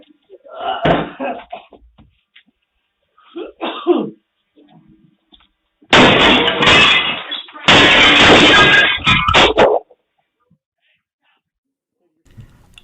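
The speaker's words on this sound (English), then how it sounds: "He will take a large reddish board and smash the window of the apartment" Window of an apartment smashed with a large reddish board, a sudden loud crashing burst of breaking sound lasting several seconds, preceded by scattered thuds and faint voices.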